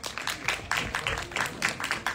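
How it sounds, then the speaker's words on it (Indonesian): Applause from members of the media at a film event, a moderately close, scattered patter of handclaps with uneven rhythm, rising and falling over a couple of seconds. "Tepuk tangan dong teman-teman media"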